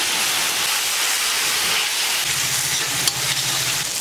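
Ginger garlic paste frying in hot oil for a pangasius fish curry, a continuous loud sizzle and hiss with a low rumbling bubble entering midway and a brief clink near the end.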